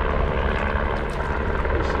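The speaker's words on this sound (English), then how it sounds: "That's a CHP chopper." A California Highway Patrol helicopter flies over a river during training, its steady rotor and engine drone filling the whole stretch at a constant, fairly loud level with no talk.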